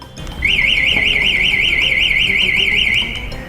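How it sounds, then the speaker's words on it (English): Find-me alarm from the remote of an Okinawa Ridge electric scooter: a loud, continuous warbling electronic siren, rapidly rising and falling in pitch for about two and a half seconds before stopping. "this remote also comes with a lock function and a find me alarm"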